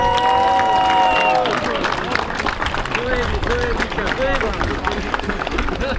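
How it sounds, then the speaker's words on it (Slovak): An audience at a Slovak sport dog-training club championship applauds, with dense clapping and crowd noise under overlapping voices and cheers. "Veľký potlesk!"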